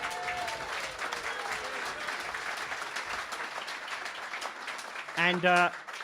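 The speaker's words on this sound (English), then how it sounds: "So a round of applause." Gig crowd applauding for Yorkshire Claude, a steady wash of clapping throughout, with a brief voice cutting in near the end.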